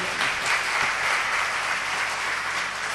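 A crowd at a Hindi comic poetry gathering breaks into loud, dense applause. The clapping is a continuous rush that holds steady for the full three seconds, with no talk over it.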